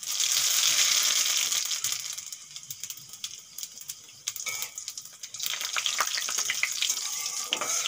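Two dry red chillies and radhuni seeds crackle and sizzle as they hit hot mustard oil in a kadai: a loud burst of frying that settles into a steady, close spatter with small pops, without speech.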